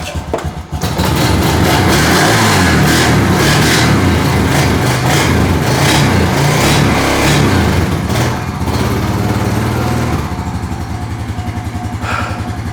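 A 2004 Honda TRX 350 ATV engine runs steadily after being started, a loud, continuous close-up motor drone that holds through the whole stretch and eases slightly near the end.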